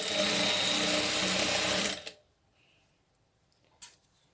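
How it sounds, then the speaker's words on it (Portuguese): A sewing machine runs steadily while stitching gathered fabric for a doll dress, a dense whirring drone that stops abruptly, leaving near silence broken by a single faint click. "Tô passando um pezinho de máquina"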